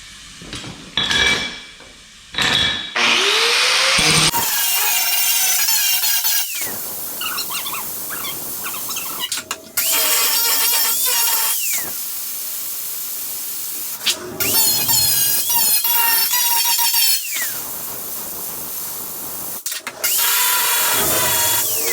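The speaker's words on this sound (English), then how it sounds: "And then I'll switch to either a fiber disc or a flap wheel, one of the two." Fiber disc or flap wheel on an angle grinder grinds a truck cab corner in bursts, loud harsh whining passes separated by short pauses and clanks of metal handling.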